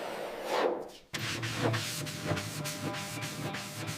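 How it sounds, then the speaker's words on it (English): Steady abrasive rubbing of a hand sanding block over body filler on a 1930s car body during restoration, repeated back-and-forth strokes at close range after a brief pause. "Now begins hours of painful, hand-numbing block sanding."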